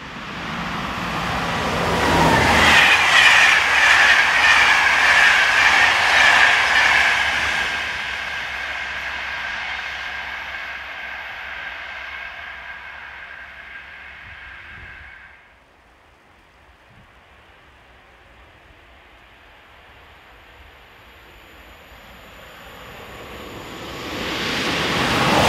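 Train hauled by Class BB25500 electric locomotive 26140, the 0621 from Basel, passing with a loud rising rush and high whine that fades into a long distant rumble before another approach swells at the end.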